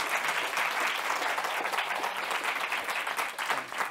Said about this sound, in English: give our speakers another round of applause